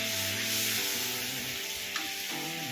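Splash of masala-bowl rinse water poured into oil-fried masala for a chhana ball curry, giving a steady hissing sizzle that holds loud and even throughout, with faint stirring scrapes.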